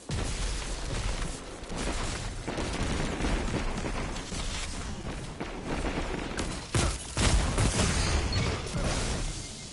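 Hand cannon shots in a Destiny firefight, a run of loud, heavy cracks and booms spread across the stretch amid dense, clattering battle noise.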